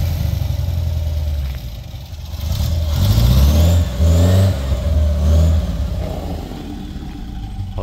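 A 1985 Toyota Hilux 4x4 at a classic car auction roars close by, its engine idling roughly and then revving hard through several loud, rising bursts in the middle before settling back.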